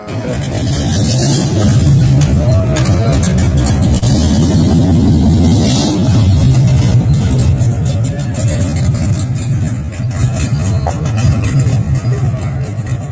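A muscle car's engine rumbles loudly as it pulls away, a constant heavy, distorted roar that stays close and dominant throughout.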